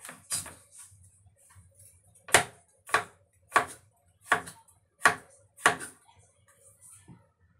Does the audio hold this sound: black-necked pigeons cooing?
no